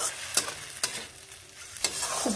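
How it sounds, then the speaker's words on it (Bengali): Banana flower being stirred and sautéed with spices and salt in oil, a continuous close sizzle broken by three scraping strokes of the spoon against the pan, no talk. "খুব ভালোভাবে এইভাবে কষিয়ে নিচ্ছি"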